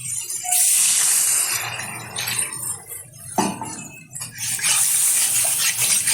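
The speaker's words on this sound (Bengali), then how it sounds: "এখন দিয়ে দেবো পরিমাণ মতো জল।" Water is poured into a pan of potato and spice curry, a close, bright splashing hiss that fades and swells with a few clinks in between.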